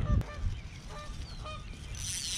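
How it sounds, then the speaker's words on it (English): Geese honk from across the water at a fishing spot, a few short nasal calls repeating at a moderate distance over low wind rumble and an early thump. "I got geese over there honking at me."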